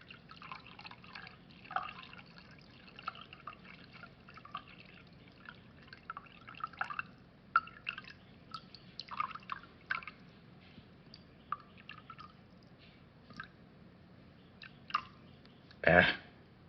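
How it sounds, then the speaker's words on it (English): Thin trickles and drips of 8 ounces of water fall into a pot on a camping stove, with light splashes and clinks through the pour, ending in a louder clatter. "I'm going to put 8 ounces of water"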